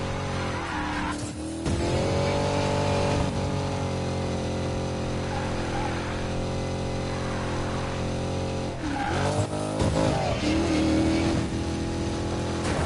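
A Chevrolet Corvette engine revs hard while drifting in Need for Speed Payback, a loud sustained growl with shifting pitch, tire skids and a couple of brief dips as the car slides.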